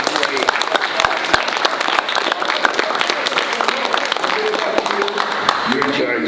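Middle school students in an assembly applaud themselves for their grades, a loud, sustained burst of many hands with crisp nearby claps, cheering voices mixed in throughout.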